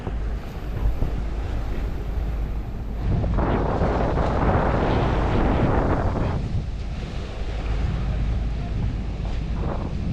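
Wind roaring across the microphone with the wash and surge of Pacific Ocean waves around a fishing boat, loud and continuous, swelling in the middle.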